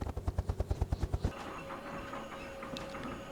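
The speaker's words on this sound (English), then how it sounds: "And now starting to increase the pitch of the blades. And hopefully land on this cushion of air now." A helicopter raising its rotor blade pitch to land on a cushion of air: about ten loud, even rotor thumps in the first second, then a steadier whining engine rumble with a faint tone.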